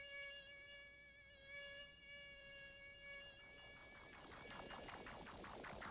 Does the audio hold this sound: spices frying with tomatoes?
no